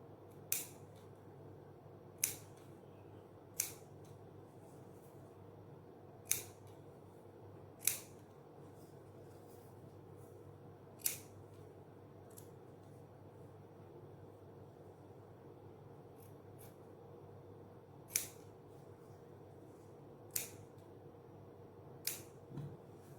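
Scissors make small snips into cloth while stitching a designed neckline, about ten crisp, isolated cuts spaced a few seconds apart over a steady low room hum, close and fairly quiet with no talking.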